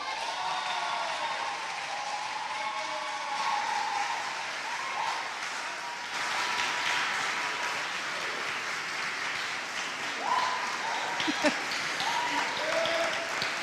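Sustained audience applause after a performance at a national awards ceremony, steady and lively, with scattered cheers and faint voices mixed in and a brief rise toward the end.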